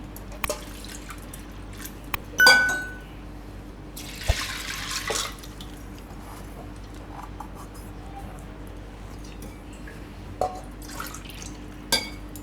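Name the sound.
water poured into pressure cooker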